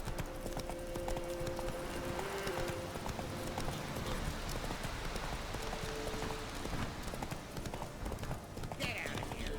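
A ridden horse's hooves clip-clop in a steady rhythm at moderate distance, mixed with a continuous ambient wash and a brief snort near the end.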